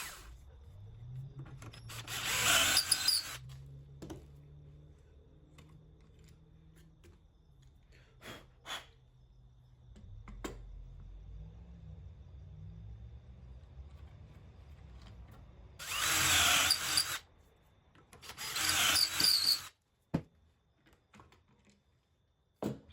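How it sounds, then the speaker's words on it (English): Drill boring dowel holes into the ends of reclaimed hardwood footstool stretchers using a Dowelmax doweling jig: three short, loud bursts of drilling separated by quiet handling taps and knocks, with no talk. "I use the dowel max to drill 2 holes in both ends of the 4 stretches."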